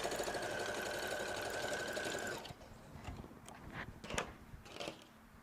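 Sewing machine stitching a quilt block seam, a steady close mechanical whir for about two seconds, then stopping, followed by scattered soft handling clicks and rustles of fabric.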